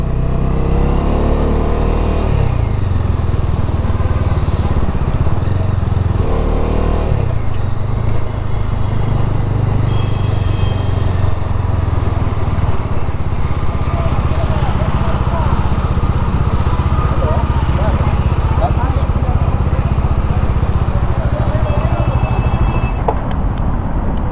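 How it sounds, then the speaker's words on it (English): A Bajaj Dominar 250 motorcycle engine drones steadily up close, its exhaust rumbling and shifting in pitch as it revs and rides on, with a voice talking over it. "I love the exhaust note of this."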